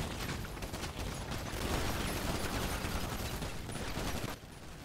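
Dense, continuous gunfire in a GTA roleplay game, a loud, rapid barrage of shots packed close together that cuts off abruptly near the end, with no voices.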